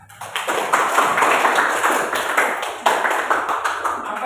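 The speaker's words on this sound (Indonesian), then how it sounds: "Ya, tepuk tangan." Applause from a classroom audience of students during a lesson, a steady rush of many hands clapping that runs for several seconds, loud and close, with a brief dip partway through before the clapping picks back up.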